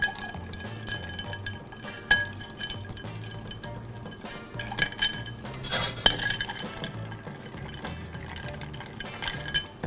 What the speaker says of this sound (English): We add a little bit more ice cubes.